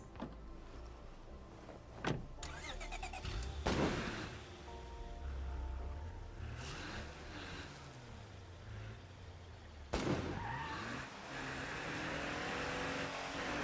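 Car engine starting in State of Decay 2, with sharp door-like thumps followed by an engine catching and revving, a steady motor hum, then another thump and renewed revving; moderately quiet and with no talk.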